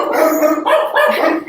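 A dog barks loudly and close by in a quick run of several barks with no talk over it.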